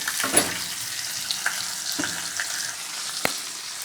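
Fish fry in oil in a wok with a steady, crackling sizzle up close, marked by a few louder pops and spatters scattered through, with no voices.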